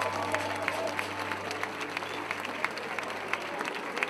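A concert crowd applauds a salsa maestro, a dense, steady wash of many hands clapping, fairly loud and continuous, with a low hum beneath it.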